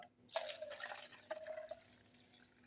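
Red pancake syrup mixture pours from a container into an old plastic bottle, giving a soft trickling, dripping stream with a brief pause midway, close and fairly quiet with no talking.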